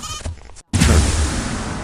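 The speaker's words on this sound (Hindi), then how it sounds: "कितनी प्यारी भेड़ है।" A sheep bleats close by in a pen, a short wavering call followed by a louder burst of bleating and rustle after a brief silence.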